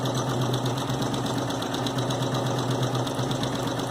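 An Elna Expressive 860 sewing machine stitches embroidery in a steady, fast mechanical rhythm, a continuous close whir with rapid even needle clatter and a low motor hum throughout.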